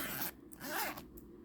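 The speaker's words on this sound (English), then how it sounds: "Zipper," A clothing zipper on a Dooney & Bourke handbag pulled open in two quick strokes, close and clear, with a short pause between them.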